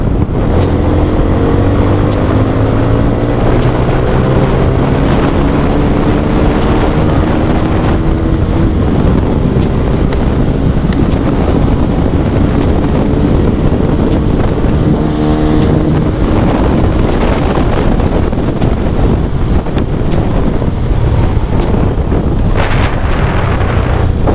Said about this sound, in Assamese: বাইকখনত কেনিবা অকণমান টপ স্পীডটো অলপ টেষ্ট কৰোঁ